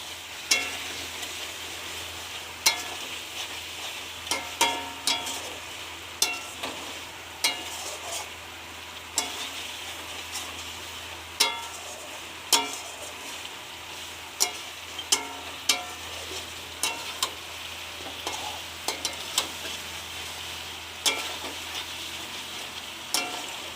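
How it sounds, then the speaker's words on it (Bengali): Mutton sautés in oil in a pan, a steady close sizzle with scraping stirs and sharp clinks recurring every second or two throughout, no voices. "দেখুন মাংস আমাদের কষানো হয়ে গেছে, তেল ছেড়ে দিয়েছে মাংসতে"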